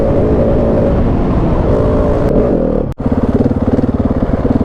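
A Husqvarna 701 adventure motorcycle engine idles with a deep, throaty stock exhaust rumble, loud and close, with a brief cutout before the pulsing burble resumes.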